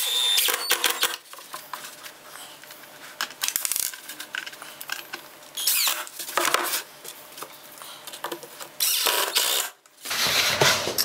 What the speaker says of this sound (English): Yeah, I'll put some screws in there.